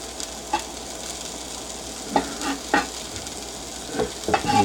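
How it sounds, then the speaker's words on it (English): Carrot, mushroom, broccoli and mung bean sprouts fry in a pan with a steady close sizzle, broken by several scraping stirs and clacks of a utensil against the pan. "I'm going to get all these things in the pan nice and neatly here and just get them all going."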